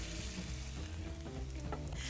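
Beef for chow fun fries in a hot wok, a brief, dense sizzle with a low rumbling hum underneath, steady and close.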